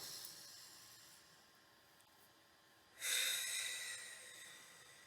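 A quiet, slow breath through the nose comes after a hush, a soft airy rush that swells suddenly and then gradually fades.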